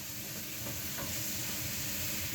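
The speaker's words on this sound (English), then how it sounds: "I'm going to stir my apples" Apples are stirred in a hot pan with butter and sugar, giving a constant close sizzle with faint scraping of the spoon underneath.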